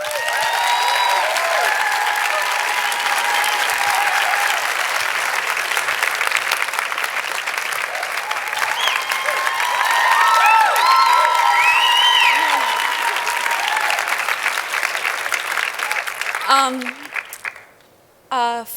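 An audience at a MoMA PS1 screening event with Tribeca welcomes filmmaker Celia Rowlson-Hall with loud, sustained applause and some cheering, holding steady for about sixteen seconds before it quickly dies away.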